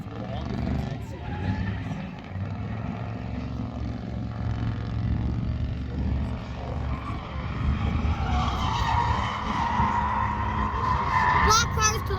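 Racing cars skid and squeal their tires through a sustained engine-and-tire roar that swells louder toward the end, with voices talking over it.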